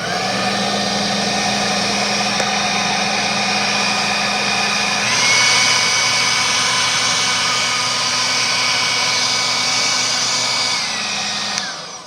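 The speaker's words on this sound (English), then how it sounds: "Here's the leaf blower." Leaf blower running loud and close, a continuous high whine over a low motor hum that shifts pitch once midway as the speed changes, then cuts off at the end.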